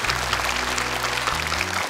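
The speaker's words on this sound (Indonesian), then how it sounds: "Tepuk tangan dong untuk Aska." An audience at a televised Quran recitation contest claps warmly for a young participant, a short burst of crowded, continuous applause.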